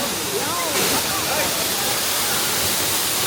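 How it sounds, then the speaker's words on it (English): Toraille Falls in St. Lucia pours 50 feet down a sheer cliff, a dense, continuous roar of falling water with a voice talking over it. "Toraille Falls cascades down a sheer cliff from a height of 50 feet"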